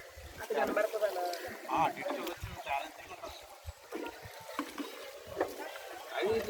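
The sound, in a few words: hand-rowed boat on water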